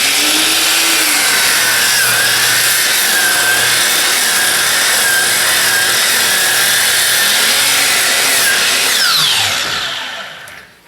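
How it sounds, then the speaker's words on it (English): Sliding compound miter saw cross-cutting large wooden blocks for shingles, a loud, sustained high whine of the blade biting through the wood for about nine seconds before spinning down and fading. "I have the sliding compound miter saw set up so that I can cross-cut these rather large pieces"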